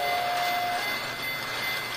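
A toy model train runs along a diorama track, a steady faint rumbling and rattling rolling on for a couple of seconds, with a brief thin tone near the start and no talking.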